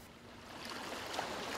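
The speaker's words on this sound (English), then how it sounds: "it is very quiet. We can even hear the waves." Ocean waves give a soft, continuous wash of surf at low level, gently swelling toward the end with nothing else standing out.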